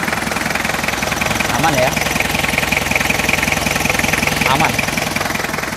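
A 1995 Isuzu Panther Hi-Grade diesel engine idles steadily at close range, its even low rumble and rhythmic knock continuing throughout while someone talks over it.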